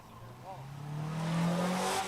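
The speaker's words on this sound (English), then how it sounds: "Miata Mike is back, little red Miata" A little red Mazda Miata with a removable hard top drives at a test-and-tune event, its engine tone rising steadily as it accelerates, growing from moderate to loud, while a voice talks faintly in the background.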